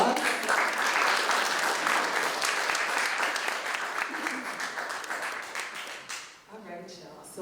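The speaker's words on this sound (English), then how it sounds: "Can we give them a round of applause?" An audience claps steadily through a round of applause at a left-politics evening panel event, dense and sustained, thinning out near the end as a voice begins talking.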